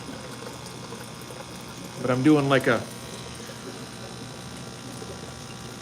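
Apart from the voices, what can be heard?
aquarium water change, water being pumped and poured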